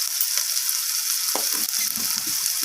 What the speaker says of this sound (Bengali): আদা আর লবণটাকে আবারও সব কিছুর সাথে আমি কষিয়ে নেব এইভাবে